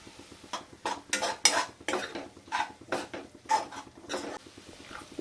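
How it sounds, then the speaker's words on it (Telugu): Cardamom powder being stirred into carrot halwa in a pan, a spoon scraping and clinking against the metal in a steady run of close, distinct strokes with no talking. "కొంచెం యాలకుల పొడి వేసి బాగా కలుపుకోవాలి."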